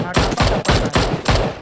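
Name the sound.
gunfire from a bolt-action rifle in PUBG video game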